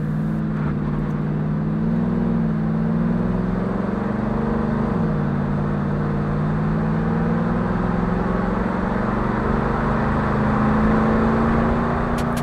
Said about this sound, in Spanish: en el exterior, el sonido de su motor es música para los oídos